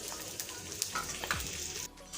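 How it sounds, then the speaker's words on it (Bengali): Soft sizzling of chicken frying in oil for Afghan chicken malai curry, with a few light clinks and stirring sounds before it briefly drops off. "এটা তেল দিয়ে ভাজতে হবে।"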